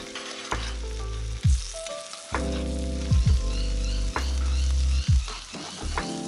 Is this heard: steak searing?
yes